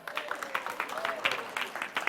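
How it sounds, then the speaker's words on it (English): Parents at a children's reading event give the kids a round of applause, a thin patter of scattered claps that keeps up for a couple of seconds with a voice faintly mixed in. "can we give these kids a big round of applause right now?"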